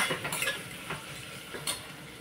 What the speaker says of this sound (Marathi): व्यवस्थित परतून घ्यायचं आपल्याला. एक 2 मिनिटं व्यवस्थित परतून घ्यायचं आपल्याला.